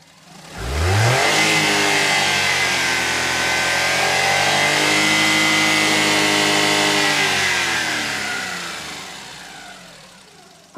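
A small Maruti Alto car engine revs up from idle, holds a steady higher hum, then eases back down, close and alone.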